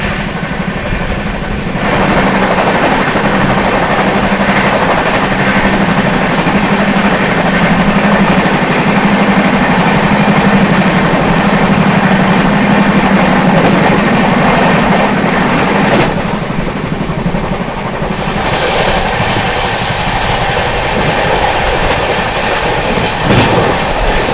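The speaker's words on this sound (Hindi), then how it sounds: "सामने से आती हुई दिल्ली अलीपुरद्वार सिक्किम महानंदा एक्सप्रेस" The Delhi–Alipurduar Sikkim Mahananda Express approaches and rushes past at speed, a loud continuous roar of wheels and carriages with rhythmic clatter, sharp swells as coaches go by and fading near the end.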